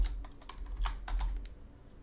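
Fingers type on a computer keyboard in a quick, close burst of a dozen or so light clicks that taper off toward the end, with no talk.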